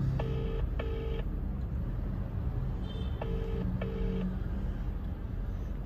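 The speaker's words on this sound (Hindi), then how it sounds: "लैला को फोन कर रहा हूँ, जिम भी मंगाया।" Telephone keypad tones as a call is dialed, two pairs of short beeps in quick succession over a steady low rumble, close and clear with no talking.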